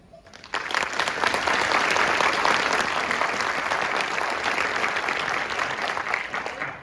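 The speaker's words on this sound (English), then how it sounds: "Please join me in a round of applause for the awardees" Sustained applause from a crowd at a drill sergeant course graduation ceremony, starting after a brief lead-in and holding steady and loud until the end.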